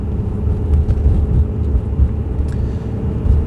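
Ferrari 612 Scaglietti engine while driving, a steady low droning rumble heard from inside the car, even and continuous with no talk.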